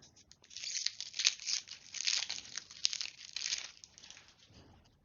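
A Magic: The Gathering Commander Legends booster pack is torn open by hand, giving a close, crinkly foil rip that crackles in several bursts over a few seconds, with no talking.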